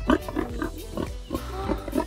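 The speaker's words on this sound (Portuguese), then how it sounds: "Gente, senhor, tem porco." A large pig on a strawberry farm grunts repeatedly in a steady series of short, nasal snorts, close and fairly loud.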